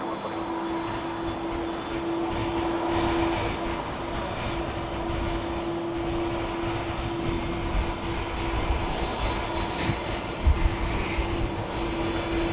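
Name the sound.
Malaysia Airlines airliner arriving at Sydney Airport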